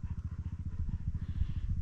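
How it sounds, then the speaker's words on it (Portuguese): Dirt bike motorcycle engine idling nearby with a steady low, rapid putter, loud and continuous with no talk over it. "uma moto de trilha"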